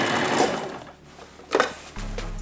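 A sewing machine stitching a jacket seam, whirring in short spurts at close range, then settling into a steady low mechanical hum at the end.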